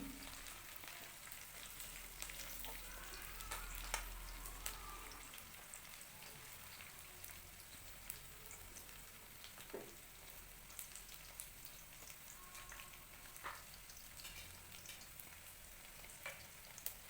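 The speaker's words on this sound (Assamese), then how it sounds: "ৰঙচুৱা হোৱালৈকে ভাজি লওঁ।" Onions fry in a pan on a home stove, a soft continuous sizzle with scattered crackles and occasional clicks of a stirring spoon, quiet and close, without any talk.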